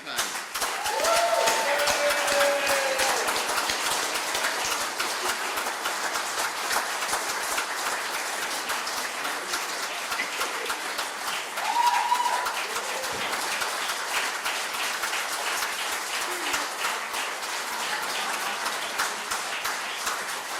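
Sustained applause from an election-night crowd cheering a campaign worker from the Bellarine campaign, continuous dense clapping lasting many seconds with a few scattered whoops rising above it.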